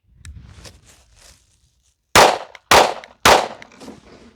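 Three sharp, loud 9mm pistol shots of 115 grain full metal jacket rounds fired into a cinder block outdoors, evenly spaced about half a second apart, each with a brief decaying ring, after a stretch of low, quiet rustling.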